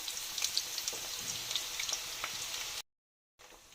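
Chopped onion frying in a pan, a steady crackling sizzle with scattered pops, cut off briefly by silence near the end before resuming faintly.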